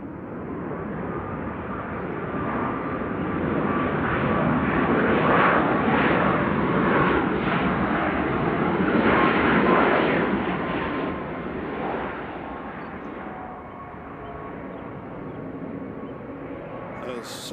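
A jet airliner takes off at Nashville airport on a windy day, a broad, steady roar that swells and then slowly fades over nearly twenty seconds.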